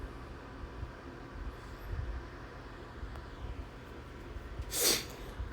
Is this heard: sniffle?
yes